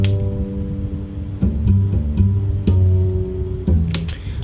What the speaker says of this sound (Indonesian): Nah ini upright jazz bass, bunyinya kayak gini.